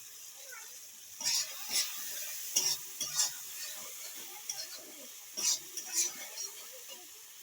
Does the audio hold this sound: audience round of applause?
no